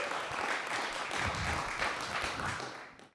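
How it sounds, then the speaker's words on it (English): An audience gives the Beeson Brothers a brief round of applause, a dense patter of many hands clapping at moderate volume that fades out after about three seconds. "let's give a round of applause for the Beeson Brothers"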